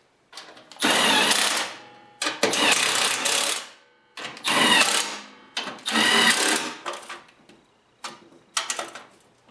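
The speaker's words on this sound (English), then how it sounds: "I'm going to retighten them on low speed with my impact" An impact wrench on low speed retightens bolts on a Troy-bilt/Cub snowblower, firing in five or six separate rattling bursts of about a second each with short pauses between, close by with no talk.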